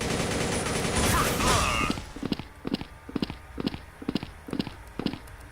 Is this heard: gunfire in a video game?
yes